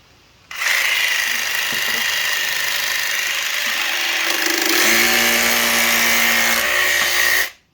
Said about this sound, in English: even though we've used a more aggressive Bosch T101D jigsaw blade, it's still left us with a nice clean cut on top of our melamine